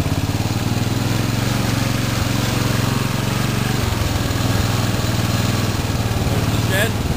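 A racing lawn mower engine runs steadily and close by, a continuous low buzzing drone with a brief dip in tone partway through, over uneven outdoor ground.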